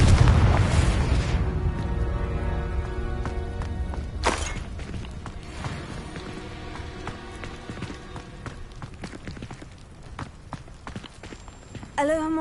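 Confringo fire spell explosion in the Hogwarts Legacy video game; a loud booming blast at the start with rumbling decay, a second sharp burst a few seconds later, then scattered game effects and a brief crackle near the end.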